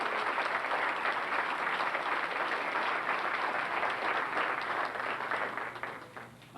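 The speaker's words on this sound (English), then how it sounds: "How about a great round of applause for our Borough employees?" A crowd at an outdoor town 100th birthday celebration gives a sustained round of applause for borough employees, dense steady clapping that tapers off and stops near the end.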